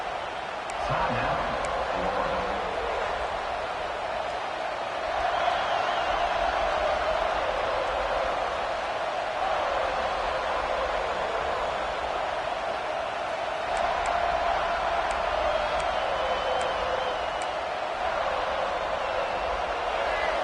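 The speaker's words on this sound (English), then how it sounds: "this crowd is fired up. Listen to this noise here." A big stadium crowd at a college football game roars steadily throughout, a constant wash of cheering and noise with no pauses.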